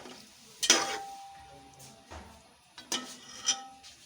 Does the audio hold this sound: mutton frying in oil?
yes